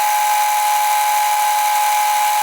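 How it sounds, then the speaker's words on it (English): A center drill spins steadily while marking the center of a motorcycle fender mount bracket on a CB500F rebuild, giving a loud, constant machine whine with a sharp tonal ring that stops abruptly at the end. "now I'm going to go ahead and use a center drill to get in here"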